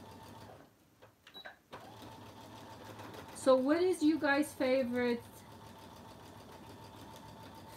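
A sewing machine stitches at slow speed while a messenger bag is sewn, a short burst of steady mechanical whirring in the middle, with a person talking before it and a faint hum throughout.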